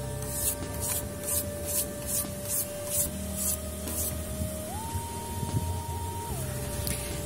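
A soft brush rubs dust off a pyrography-decorated book in rhythmic, close, breathy strokes, repeated several times over faint background tones.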